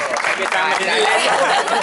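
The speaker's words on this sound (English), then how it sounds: "Yes, we need to give a clap." Audience applause after thanks to faculty at a professional development event, dense and steady clapping throughout with a murmur of crowd voices mixed in.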